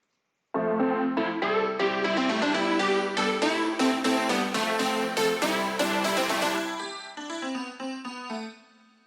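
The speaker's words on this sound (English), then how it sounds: "So they're 2 of the chords from the drop, and they sound like this." Dense, sustained synth chords from an EDM drop produced in Logic Pro X ring out as loud stacked harmonies, shifting once and fading away at the end.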